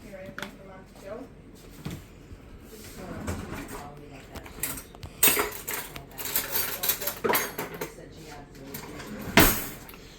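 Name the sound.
mixing flour and paprika together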